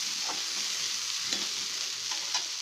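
Drumstick leaves and moong dal curry stirred in a pan, with a steady soft sizzle and a few scraping clicks of the spoon against the pan, near and alone with no talk.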